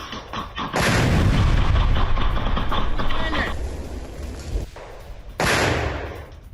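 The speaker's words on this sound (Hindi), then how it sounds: "गन फाइट के दौरान किस तरह से ये माइंस उड़ाई गई" Mines blow up during a gunfight in war footage, heavy booming blasts with long rumbling roar, a second explosion following after a short lull, loud and harsh.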